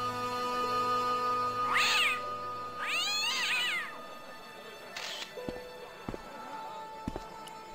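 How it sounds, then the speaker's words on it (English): Cat meowing in the PC adventure game Broken Sword: Shadow of the Templars, Director's Cut: two drawn-out, wavering meows close together, then quieter scattered game sounds. "The cat was an ugly brute who looked like he owned the joint."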